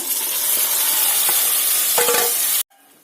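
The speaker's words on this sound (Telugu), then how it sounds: "దీంట్లో ఇప్పుడు మనం చికెన్ వేసుకుందాం ఇప్పుడు నాన్ వేసుకున్న చికెన్ వేద్దాము" Chicken pieces added to fried onions in a pan for Moradabad chicken biryani, giving a loud, steady sizzle with stirring scrapes, and then the sound cuts off sharply near the end.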